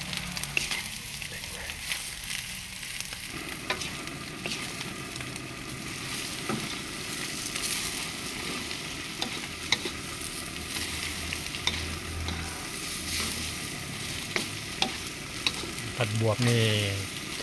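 Luffa sponge gourd stir-frying in a pan with egg and pork, a loud, steady sizzle running throughout with scattered clicks of a utensil against the pan.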